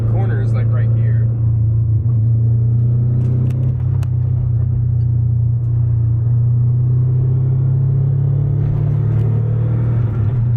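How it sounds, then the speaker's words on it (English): Steady loud road rumble and engine drone inside the cabin of a Subaru Forester STI, with faint rattles and shaking noises over a continuous low hum. "There is a lot of shaking, rattling, and road noise"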